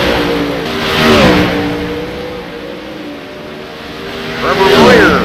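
Sprint cars with 410 engines roar away together on a dirt oval after the green flag, a loud, wavering pack of engines that swells near the start, eases, then surges again near the end, with a commentator talking over it.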